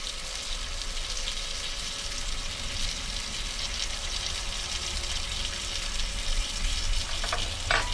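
A spice-marinated pork chop fries in a pan in a camper van kitchen, a loud, dense, continuous sizzle and crackle that holds steady throughout.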